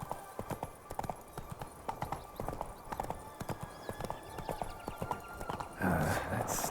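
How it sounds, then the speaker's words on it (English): In The Witcher 3, a horse gallops with quick, steady hoofbeats pounding in a continuous rhythm, and a louder rushing burst of game sound arrives near the end. "Run, Roach."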